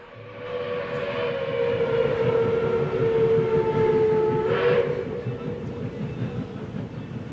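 A train runs at full speed along rails, a steady loud rumble with rhythmic clatter and a sustained whistle-like tone throughout, swelling briefly near the end.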